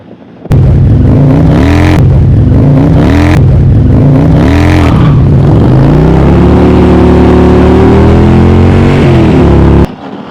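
A 2021 Harley-Davidson Road Glide rated at over 140 horsepower roars loudly up close, its engine revving hard in a few quick blips before holding a sustained high-rpm pull under hard acceleration, then cutting off abruptly.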